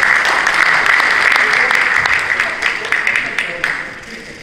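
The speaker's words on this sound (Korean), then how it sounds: "박수 주시기 바랍니다" Loud, dense applause from an assembly at a regional presbytery general meeting held in a church, sustained and then gradually thinning toward the end.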